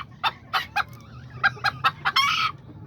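Kikiriki chickens cluck in a string of short, sharp bursts and end with a brief crow, heard fairly close against a low background hum.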